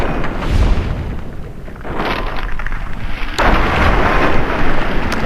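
Heavy booming blasts echo in Fallout 3. One deep boom comes early, and a sharp, loud crack hits midway, followed by rumbling decay that fills the rest of the clip.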